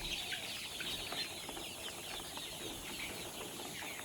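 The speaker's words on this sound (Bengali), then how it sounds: "মুরগির অবস্থা এমন উড়ন্ত অবস্থায় আছে।" Forty-eight-day-old chickens in a poultry shed flap their wings in a faint, continuous rustle with soft fluttering bursts and no talk.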